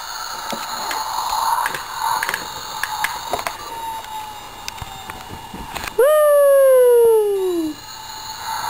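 A toy vacuum cleaner switches on after a stretch of quiet room noise and a voice, then gives a loud, steady whine that falls slowly in pitch over about two seconds before stopping.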